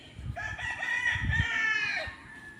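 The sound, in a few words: chickens crowing and clucking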